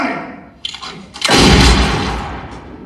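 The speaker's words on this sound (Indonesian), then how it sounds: "Bunyi pistol pun terdengar" A pistol shot in an action film cracks out sharply, followed by a loud booming report that decays over about a second and a half, with no talk over it.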